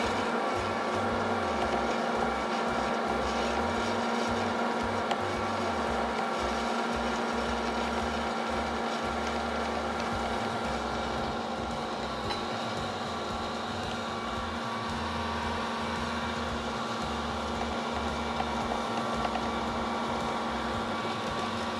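An Ankarsrum Assistent Origin stand mixer creams butter and brown sugar for cookie dough, giving a steady low motor hum with a rhythmic churning throb that holds constant throughout, with no one talking.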